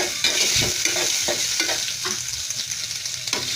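Ground shrimp paste stirred in hot oil in a pan, a loud close sizzle with repeated scraping strokes of a spatula in uneven rhythm, no talk.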